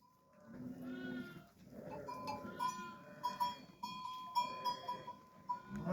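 Several sheep bleat repeatedly at close range, overlapping calls rising and falling over a few seconds with no talking.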